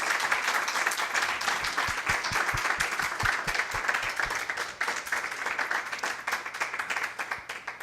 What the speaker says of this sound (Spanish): para quien pido por favor un fuertísimo aplauso